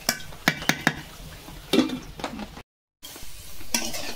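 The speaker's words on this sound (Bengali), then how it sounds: "এই যে লবণ, হলুদ দিয়ে নেড়ে ফেড়ে একটু ঢেকে দেবো।" Banana stem and prawn curry with salt and turmeric is stirred in a pot, giving a few sharp spoon clinks and scrapes against the metal amid soft sizzling, with a brief silent break before quieter kitchen noise resumes.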